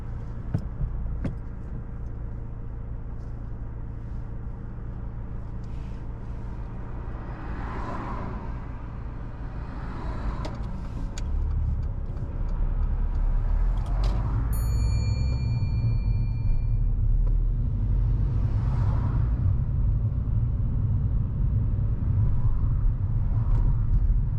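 A car pulls away from a roadside parking space on the left, its engine rumble rising and holding steady at a close, even level, with a brief high whine partway through and no talking.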